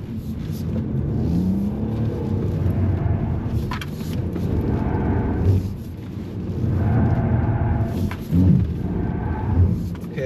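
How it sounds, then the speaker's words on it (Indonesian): A new Nissan X-Trail with e-pedal drives a test track, giving a steady hum of engine and road noise inside the cabin that swells and eases as it accelerates and slows through turns. "lepas gas dikit sambil belok, gas, lepas gas dikit dengan belok, gas"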